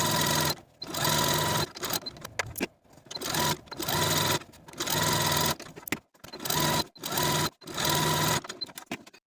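A sewing machine runs gathering stitches along a velvet ruffle panel, humming in short bursts of about a second each, separated by brief pauses, close and loud with no talk.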